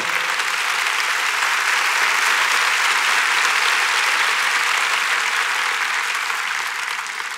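Sustained, loud applause fills a church service led by Pastor Cash Luna, a steady, even roar of many hands clapping at once, tapering slightly at the very end.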